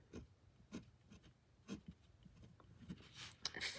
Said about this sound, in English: we're just going to write down by denomination